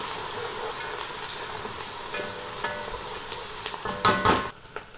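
Oil sizzles steadily in a pan holding chopped onion and whole spices (bay leaf, cardamom, cloves, peppercorns, cinnamon), with occasional clinks and scrapes of stirring, then a louder clatter near the end before it quiets.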